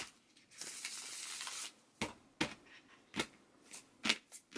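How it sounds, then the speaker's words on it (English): Tarot cards being shuffled at close range, a sustained riffling whoosh followed by several crisp separate card snaps and slides as cards are pulled. "let's pull 3 more cards for you"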